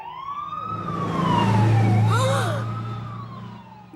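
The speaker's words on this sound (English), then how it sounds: "Oh, I'll turn on the siren." A cartoon emergency vehicle siren wails in a rising and falling sweep over a steady engine rumble, growing louder toward the middle and then fading away.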